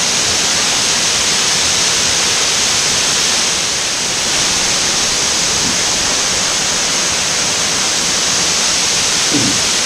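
Rushing water of Rainbow Falls roars steadily as a dense, broadband wash of sound, loud and constant throughout with no voices.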